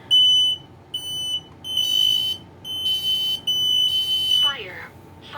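A hardwired smoke alarm under test sounds a loud, piercing electronic beep in repeated bursts with short gaps, close to the microphone, with a voice coming in near the end.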